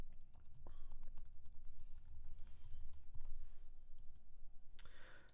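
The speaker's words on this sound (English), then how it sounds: "I will type in the domain that I intend to point to SiteGround" Fingers tap quickly on a computer keyboard as a domain name is entered, with irregular bursts of soft clicks and a louder clack near the end, close and quiet against a faint room hum.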